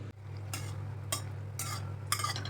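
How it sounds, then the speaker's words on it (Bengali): Lentil dumplings going into hot mustard oil in a pan, a few short crackling sizzle bursts spaced over a low steady hum. "কড়াইতে সর্ষের তেল গরম বসিয়ে দিয়েছি এবার বড়িগুলো ভেজে নেব"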